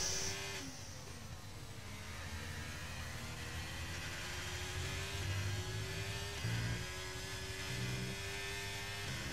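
A Formula 1 race car engine in a video game drones and whines at a steady high pitch, a continuous, fairly quiet tone with slight rises and dips in revs and no speech.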